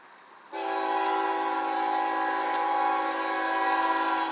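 A short CSX freight train of general merchandise cars at Effingham, Illinois station sounds a loud, steady multi-tone horn that starts abruptly and holds for several seconds, close by.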